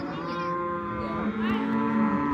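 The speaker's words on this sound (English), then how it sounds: "the cows are coming in" Cattle coming in on a Navajo ranch moo in a drawn-out, nearby call that rises and falls over a couple of seconds against faint outdoor background noise.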